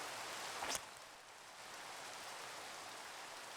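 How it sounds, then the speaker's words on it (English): Rain falls steadily in the video game Minecraft, a faint, even hiss that continues throughout, with one brief brighter swish near the start. "Oh, right. It's raining."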